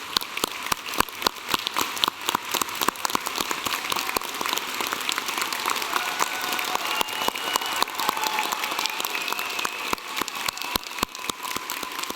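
A graduation ceremony audience applauds steadily, with many hands clapping in a continuous, fairly even patter that sounds moderately distant in a large hall.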